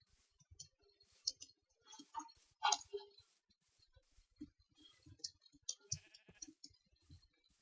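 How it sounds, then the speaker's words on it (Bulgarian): Sheep bleating in the Minecraft video game, a few short game bleats mixed with clicking and other small game sounds, fairly quiet with no one talking. "Овце."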